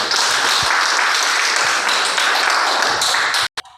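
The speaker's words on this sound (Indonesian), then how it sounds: "Oke, tepuk tangan lagi." Students in a classroom give a burst of loud, dense applause that carries steadily for over three seconds before cutting off abruptly.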